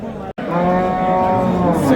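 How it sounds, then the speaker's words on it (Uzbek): Cows at a livestock market letting out a loud, long, close moo after a short pause, with background bustle and a faint voice. "Sigirlar qatoriga keldi. Sigir."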